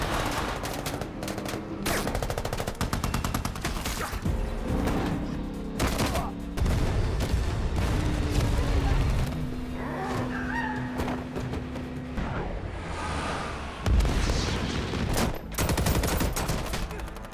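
Action scene from The Expendables with long-range gunfire, bursts of rapid shots and single cracks mixed into a dense, loud soundtrack with clucking chickens and background commotion.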